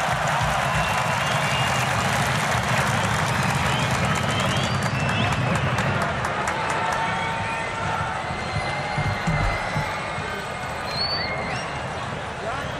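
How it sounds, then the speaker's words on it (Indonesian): A large stadium crowd at GBK applauds and cheers during a Salam Metal concert rally, a dense, continuous roar of clapping and voices that stays loud throughout with no clear breaks. "Kita beri tepuk tangan yang paling meriah GBK"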